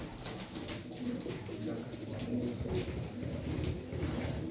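Pigeons coo close by at a live pigeon auction, soft repeated throaty calls layered over crowd chatter and voices of people talking throughout.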